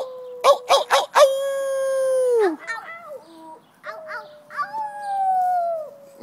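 A person imitates a coyote howl with a few sharp yelps followed by long, sliding wails, loud and close, repeated in several phrases without other talk.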